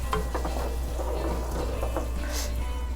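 Kimchi pizza topping, sweetened with a little oligosaccharide syrup, stir-fried in a pan with steady soft sizzling and scraping utensil clicks against the pan, close and continuous.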